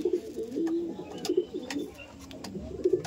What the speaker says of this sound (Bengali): মাদিন পায়রা।